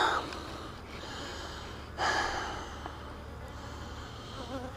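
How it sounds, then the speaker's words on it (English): Honey bees swarming around the honey supers of a hive during an inspection, a steady close buzzing drone that swells briefly in the middle, with no talking. "there may be fewer bees, but you can't tell it by looking up here in the honey supers"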